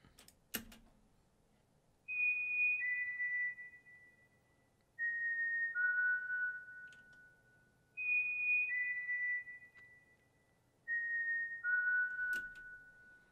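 A clear whistled melody in the style of a Spaghetti Western whistle sample plays in repeating phrases of descending notes, with pauses between each phrase and no talking.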